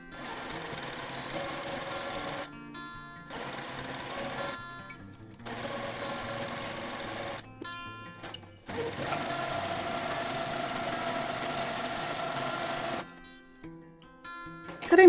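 A sewing machine runs in bursts while stitching two quilt fabric pieces right sides together along the edge with a 1/4 inch seam and a stitch length of 2, its motor whirring steadily with brief pauses between runs.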